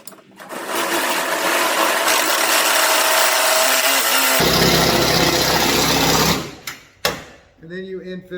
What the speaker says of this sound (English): then I'm going to install a fastener in both ends